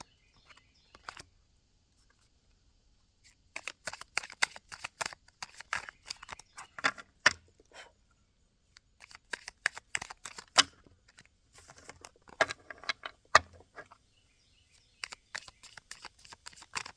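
Mystic Forest Oracle cards are shuffled in quiet, irregular bursts of soft riffling and snapping, separated by short pauses, with no voices.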